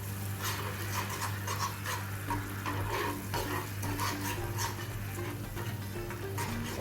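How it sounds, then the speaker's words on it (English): Jamaican Easter bun mixture with jam is mixed thoroughly in a pot, giving repeated scraping and knocking strokes over a steady low hum, close and fairly loud, with no talking. "Then you're going to give this a thorough mix."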